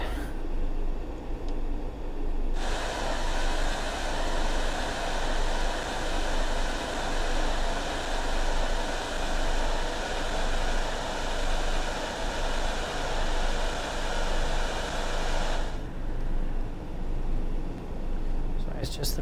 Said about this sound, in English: Brakes are really noisy on this train.